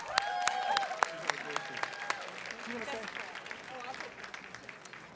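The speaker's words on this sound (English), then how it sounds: "Can I have a round of applause for my amazing artists?" At a regional Emmy awards ceremony, a crowd claps for a team of artists, distinct claps ringing over a tonal background with voices talking throughout.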